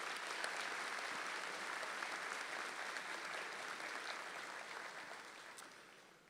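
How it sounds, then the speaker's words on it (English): Sustained applause from a large commencement ceremony audience thanking faculty marshals, a steady dense clapping that fills the room for several seconds and tapers slightly at the end. "Would you join me now in a round of applause to thank our faculty colleagues for their service this evening?"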